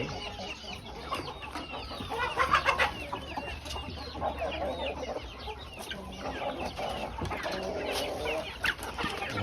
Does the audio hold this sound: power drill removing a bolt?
no